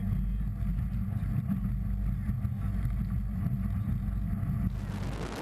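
P1 SuperStock powerboats race around the north end of a course at San Diego, making a loud, steady engine roar with heavy wind and water rush from onboard.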